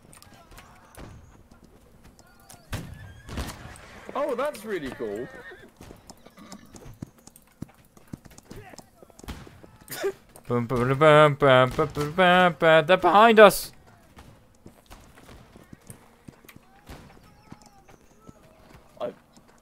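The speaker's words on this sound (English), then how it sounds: "Is that a horse?" Horse hooves clip-clop in Holdfast: Nations at War, a steady trotting rhythm passing close by while several people talk over it.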